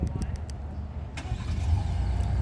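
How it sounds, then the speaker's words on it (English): A 2020 Lincoln Navigator engine starts by remote start, with a short crank whir settling into a low, steady idle rumble close by; a person talks faintly over it. "There we go, vehicle started."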